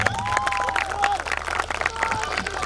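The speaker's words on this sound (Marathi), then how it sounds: "एकदा जोरदार टाळ्या बनवा करीता." Audience clapping fills a singing-competition hall after a contestant's vocal performance, a dense, steady patter of many hands with voices and a sustained tonal sound running over it.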